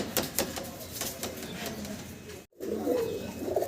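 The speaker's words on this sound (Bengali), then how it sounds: "আমরা আবারও এক জোড়া গোল্লা কবুতর আপনাদেরকে দেখাচ্ছি" A pair of large Golla pigeons cooing up close, soft repeated low coos in a rhythmic series with a brief gap, clear and without talk.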